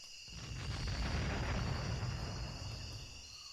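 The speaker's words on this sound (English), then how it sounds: "Another dull explosion drifted in on the breeze." A distant, dull explosion rolls in as a low, muffled rumble that swells over a second or two and slowly fades, soft and far off.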